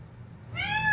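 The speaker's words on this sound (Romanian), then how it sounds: "A miaunat așa de parcă era supărată." A cat gives a single short, upset-sounding meow, close and clear, rising out of quiet background noise.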